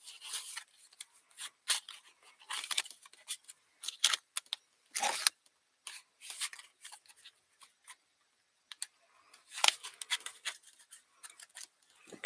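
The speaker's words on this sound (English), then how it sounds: "Shuffle the trainer cards in there as well" Vintage Pokémon trading cards being shuffled by hand, a series of soft, quick riffling and rubbing bursts in irregular clusters, close and quiet, with short pauses between shuffles and no talk.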